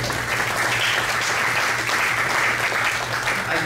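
Audience at a candidates forum applauds the church's homeless ministry, with dense steady clapping filling the room throughout, loud and continuous with a faint voice underneath.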